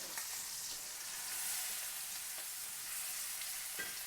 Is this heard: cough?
no